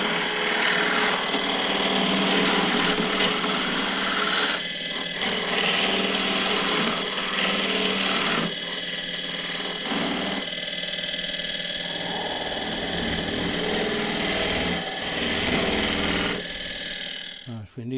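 Hollowing tool cutting into a 23-inch-tall spruce goblet spinning on a wood lathe: loud, rough scraping and rasping that rises and falls as the cut works, with short pauses between passes.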